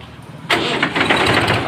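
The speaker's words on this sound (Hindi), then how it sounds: "आवाज़ सुने ट्रैक्टर की" A 1995 Mahindra 265 DI tractor engine kicks in abruptly after a quiet moment, then runs with a loud, rough, broadband chugging rumble close to the microphone.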